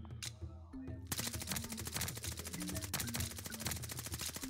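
Gunfire in a Call of Duty Vanguard match: after a short lull, dense rapid automatic shots rattle almost without a break, mixed with game music and an occasional voice.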